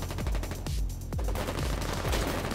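Pistol fire in the Foxhole war game: several sharp reports ring out in quick succession amid other distant gunfire, close and punchy throughout a short burst of combat.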